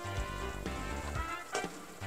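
Gyudon sauce simmers in a pan over medium heat with a soft, steady bubbling sizzle, faint and continuous for a couple of seconds, with no talking.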